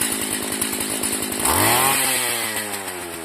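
A small two-stroke engine on an old motorized bicycle, forgotten for about 25 years, runs close by with a buzzy chainsaw-like drone, revving up sharply midway and then settling back to a steady idle.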